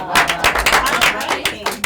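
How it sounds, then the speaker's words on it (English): An audience at a live mentalism show gives a short round of applause, with close, fairly loud clapping lasting about two seconds. "Give her a round of applause."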